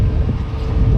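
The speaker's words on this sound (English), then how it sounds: "It's so windy here." Wind blows across open farmland, a loud, low, blustery rumble buffeting the microphone throughout the brief moment, with no voices.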